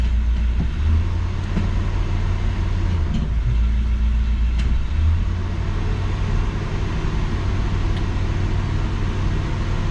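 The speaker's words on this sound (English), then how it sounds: "I'll just let her warm up there in neutral" A 1966 Ford Galaxie's engine idles in neutral while warming up with the parking brake set, a steady close rumble with a low throb and no voices.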